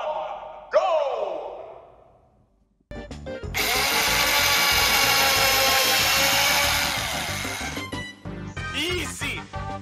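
Power drill spinning up with a loud, dense whine that runs steadily for about four seconds before tapering off, coming after a brief spoken line and followed by more talk.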